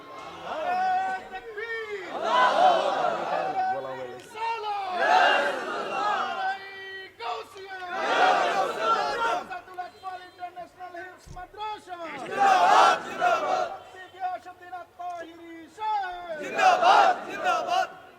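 Large crowd at a religious sermon shouting slogans in unison, loud repeated chant bursts of a couple of seconds each separated by brief pauses, with a lead voice calling between them.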